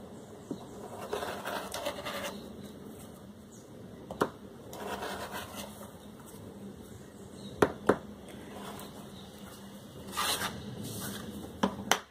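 Scissors snipping material for a Christmas tree ornament, a series of soft scratchy cuts with a few sharper clicks, close and quiet against light room noise.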